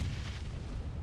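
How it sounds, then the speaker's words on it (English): Grenade explosions ringing out in the PUBG Mobile video game, a dense, continuous low rumble of bombardment filling the whole short stretch, with no one speaking. "And the nades from Prison high ground here. Starting to ring out."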